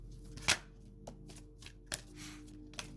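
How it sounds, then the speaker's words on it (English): Quiet, sharp riffles and snaps of cards being shuffled, with a few distinct bursts spread over a soft background hum. "I'm gonna shuffle 3 more times, Spirit."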